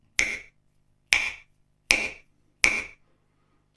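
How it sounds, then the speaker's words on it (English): Four crisp finger snaps through an Alesis Microverb II gated reverb, evenly spaced, each ending in a short burst of reverb that cuts off abruptly into silence. "it's probably better if you do it with an impulsive sound, so let's just do finger click"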